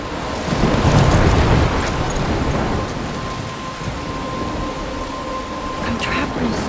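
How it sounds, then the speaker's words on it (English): A thunderstorm rages in the Life Is Strange video game: loud, constant rain pours down while deep thunder rumbles, swelling early and then settling into a steady downpour. "I'm trapped in a storm?"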